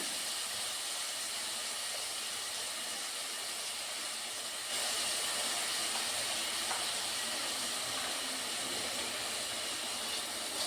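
Onions fry in a pan with cardamom for rajma masala, giving a steady close sizzling hiss that continues without a break and grows louder about halfway through, with no talking.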